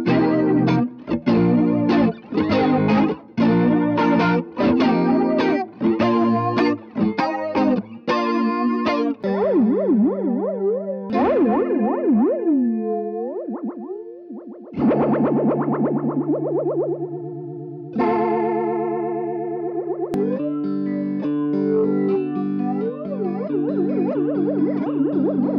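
Electric guitar played through a Walrus Audio Fundamental tremolo, phaser and chorus pedal set to its heavy mode, strummed chords and sustained notes with strong swirling modulation, loud and continuous with no talking.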